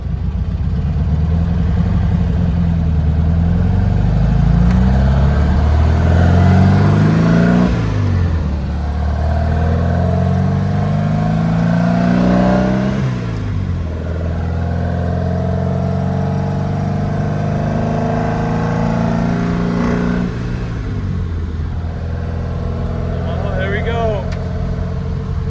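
Air-cooled 1800cc engine with carburetors in a 1957 VW running on the road, its drone climbing and falling through repeated gear changes, steady and close, with a voice speaking over it.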